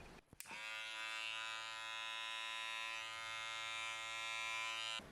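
Electric hair clipper buzzes steadily at close range while shaping an eyebrow design, a loud, even motor whine with strong harmonics that starts abruptly after a brief click and runs without pause.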